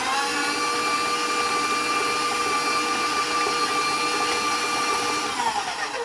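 Electric mixer beating two sticks of softened butter for Italian ricotta Christmas cookie dough, a steady whining motor hum held evenly throughout, close and fairly loud, with no talk.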